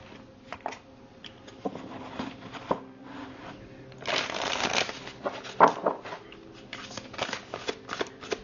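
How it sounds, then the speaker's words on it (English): Oracle cards being shuffled by hand during a tarot-style card reading, a run of soft papery riffles and slides with a louder burst midway, close and fairly quiet, with no talking. "let's pull a couple of oracle cards and see what comes out here"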